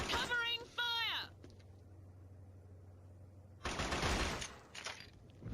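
Killzone 1 gunfire breaks out as a dense burst of rapid shots after a spoken line and a stretch of low hum, then continues in shorter, scattered bursts.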